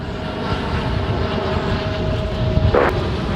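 An American Airlines Boeing 787-8 Dreamliner arriving from Seoul to land on runway 18 right at Dallas-Fort Worth International Airport, heard as a loud, steady jet roar that swells slightly and holds without a break.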